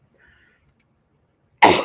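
Someone who has choked on water lets out a single sudden, loud cough right at the end after near silence.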